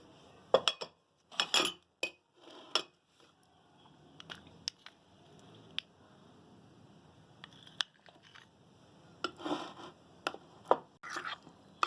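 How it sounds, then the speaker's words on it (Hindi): A spoon clinks and scrapes against a bowl as fresh cream is mixed with condensed milk for a creamy fruit chaat, in irregular close bursts of clatter separated by quiet pauses, with no talk. "सबसे पहले हमारी फ्रेश क्रीम में कंडेंस मिल्क को ऐड करके मिक्स कर लेंगे।"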